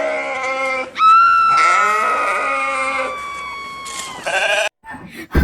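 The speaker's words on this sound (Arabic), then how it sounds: "الخروف في الحمام" Loud, near bleating from a sheep shut inside a bathroom, a long drawn-out quavering cry followed by further strained calls, ending with a short gap and a sharp noise.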